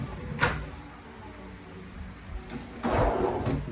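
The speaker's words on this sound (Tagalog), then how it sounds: "Drawer with cutlery. Good. Soft close." A soft-close aluminum kitchen cabinet drawer holding cutlery slides, with a short clack early on and a longer sliding rumble that settles near the end.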